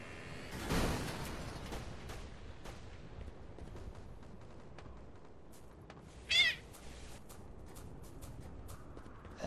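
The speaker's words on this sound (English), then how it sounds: "That sounds like a cat." A short cat meow rises out of a noisy game-event background of clicks and crowd murmur, loud and close for about a second.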